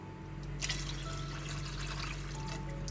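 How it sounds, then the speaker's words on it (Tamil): Water splashes and trickles steadily into a cooking pot for rice at close range over a low background hum, with no talking. "இப்போ இதை நம்ம அரிசிக்கு தேவையான தண்ணி ஊற்றிக்கலாம்"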